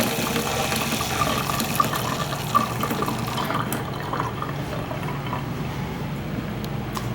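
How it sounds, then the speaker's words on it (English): Water runs steadily from a sink faucet in a 2022 Wildwood 27RE RV, fed by the onboard water pump, a continuous close hiss and splash with a few small clunks. "the water pump is working fine."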